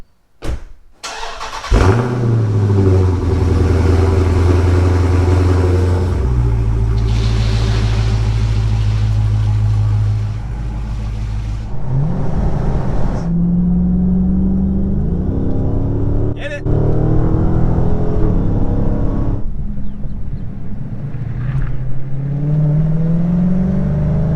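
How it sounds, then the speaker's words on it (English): A powerful Dodge Charger V8 engine rumbles and revs as the car drives around town, pitch rising and falling through gear changes, loud and close, with no talking. "we're gonna go ahead and hop in the Charger, take her around town"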